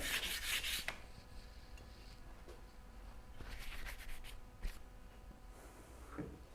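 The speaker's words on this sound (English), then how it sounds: "my flat slab of granite with a piece of wet dry sandpaper on it" The sole of a spokeshave is rubbed back and forth on wet-dry sandpaper laid over a flat granite slab, making quiet, close, gritty scraping strokes with a few sharper taps.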